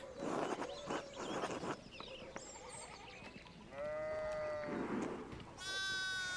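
Sheep bleat in the medieval video game Pentiment, several wavering calls, close and fairly loud, over a busy outdoor game ambience with muffled rustling between them.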